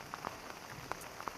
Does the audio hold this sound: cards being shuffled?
no